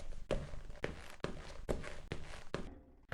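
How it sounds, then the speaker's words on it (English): Footsteps from the video game The Descent: six evenly spaced, close, dry steps with a hard scuffing attack, each varied slightly, alone with no talk. "I did the same with the footsteps of the Overseers, using a different metallic sound."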